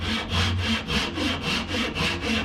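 A hand saw cuts through a wooden piece for a boat mast on a SCAMP boat build, with loud, close, rhythmic back-and-forth strokes, about eight even passes in quick succession and no talking.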